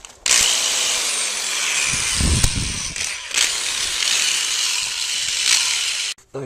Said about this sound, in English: now I'm gonna drill a hole for the new PVC pipe coming through the basement